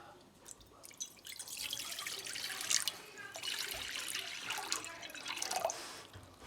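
Lukewarm tap water runs and splashes into a bowl for mixing sourdough, a steady trickling pour with a few brighter drips, fairly close and moderately quiet with no talking over it.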